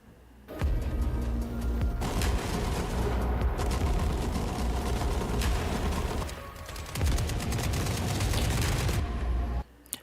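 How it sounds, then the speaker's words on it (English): Sustained gunfire rolls through a graveyard in the war game The Forever Winter, loud and dense with booming shots, easing briefly midway before resuming, then cutting off abruptly. "the fact that there's shooting amidst a graveyard is something unsettling"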